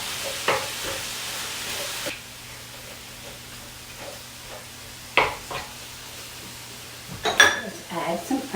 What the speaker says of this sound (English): We start with 1 pound of hamburger and we fry it up.